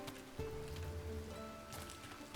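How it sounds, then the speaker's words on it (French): Rain falling in the farming game Travellers Rest, a steady soft patter over a low tonal game background, continuous and moderately quiet with no talking. "comme il pleut, c'est tout arrosé"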